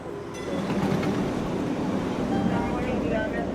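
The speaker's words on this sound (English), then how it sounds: "now the train is pulling up. The Green Line E trolley headed to Heath Street." A Green Line E trolley headed to Heath Street pulling into a station, a loud steady rumble of wheels and motors with rattling clatter, and a voice speaking under the noise.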